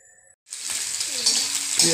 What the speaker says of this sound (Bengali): অলপমান ভাজি দিলোঁ